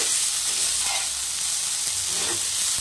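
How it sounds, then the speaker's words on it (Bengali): Chowmein noodles are stirred and fried in a wok, giving a dense, bright, continuous sizzle up close with faint scraping of the stirring spoon beneath it. "চাউমিনটা দিয়ে একটু ভালো করে নেড়ে চেড়ে নেব"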